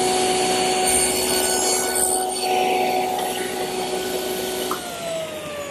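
A table saw cuts wood guided by a miter gauge, a loud steady motor whine with the rough grinding of the blade through the board, ending as the pitch drops slightly while the cut finishes.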